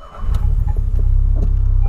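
Reverse parking sensor on a 2008 Polo Sedan beeping in a fast, regular pulse over the idling engine's low hum as the car backs toward a skip, close and steady.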